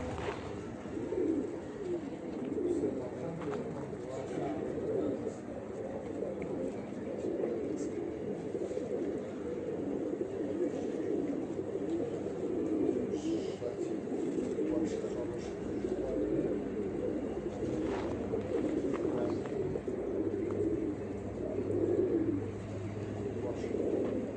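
Soft, steady cooing of racing pigeons fills a noisy coop, with a murmur of voices and rustling in the background.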